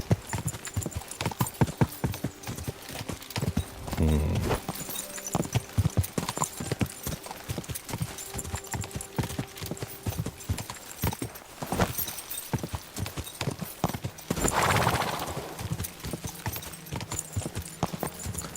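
Horse hooves clip-clop in a fast, steady gallop throughout in the video game Kingdom Come: Deliverance 2, with a brief whinny near the middle, close and continuous.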